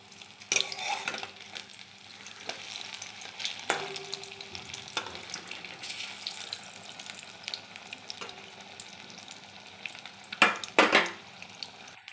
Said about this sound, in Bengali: আমার এক পিঠ ভাজা হয়ে গেছে